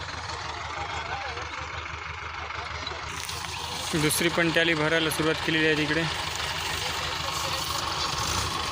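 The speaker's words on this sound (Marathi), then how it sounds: "3 ट्रॅक्टर मागून लावले आणि एक समोरून आहे मागं रिव्हर्समध्ये ढकलायला" Tractor engines idle with a steady low rumble while several tractors push a sugarcane trolley stuck in a field. Someone talks over the engine noise.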